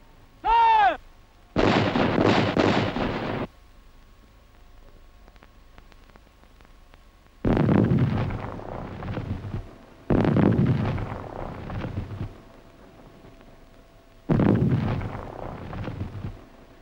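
A 75mm cavalry gun fires shells in several booming reports with rumbling tails, a short sharp crack first, then four heavy blasts spaced a few seconds apart.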